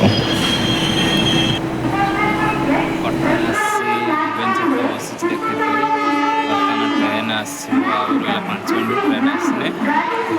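A train rumbles along the tracks at a Bhubaneswar station platform with a steady, heavy roar and high wheel squeals, while people talk over the noise.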